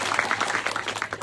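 Audience at a student camp session clapping: a short burst of dense, crackling applause from many hands, moderately close and fairly even throughout.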